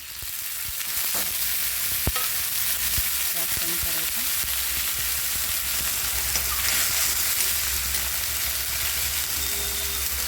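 Onion and soaked dal fry on a hot tava griddle for a chickpea-greens dish, giving a loud, continuous close-up sizzle with occasional sharp clicks and scrapes of a utensil.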